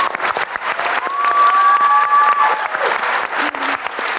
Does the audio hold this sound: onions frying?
no